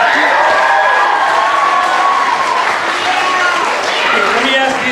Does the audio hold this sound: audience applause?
yes